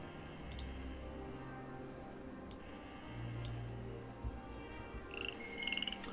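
Frog croaking in the video game Milkmaid of the Milky Way, a low, steady croak under soft game ambience with faint clicks and a brief brighter chime near the end.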